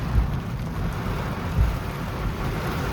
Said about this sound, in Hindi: डायरेक्ट बारिश है